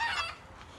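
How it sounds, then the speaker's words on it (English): Chickens being herded on a farm give a short burst of clucking, close and moderately loud at first, then fading to a quieter tail. "You guys watch me do some chicken herding."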